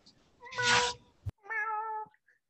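Two voices imitate a kitten's meow one after the other, each a short, high, wavering mew, the second cleaner and more sustained.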